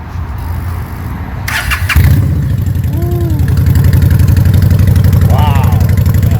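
A Honda Shadow ACE motorcycle with Vance & Hines pipes cranks over briefly, fires up and settles into a loud, steady, throbbing idle close by, with voices talking over it.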